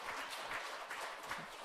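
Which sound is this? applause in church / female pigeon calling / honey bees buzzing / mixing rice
applause in church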